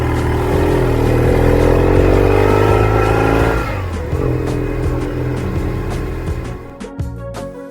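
Motorcycle engine droning loudly while the bike is ridden along back roads, pitch climbing and then dropping as it shifts, with rushing wind noise close up.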